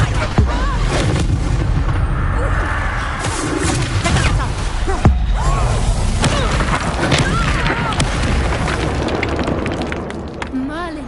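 Depulso spell blasts in the Hogwarts Legacy video game: booming, crashing impacts burst over a dense, busy game soundscape, with a voice speaking throughout.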